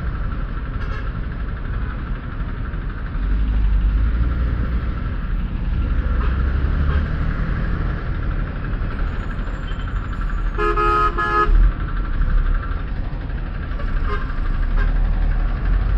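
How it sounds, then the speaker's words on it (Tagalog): Busy road traffic with buses on the way to Daang Hari, engines rumbling steadily close by while a car horn toots in a short burst midway. "Traffic ang bus ngayon."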